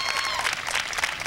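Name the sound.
audience applause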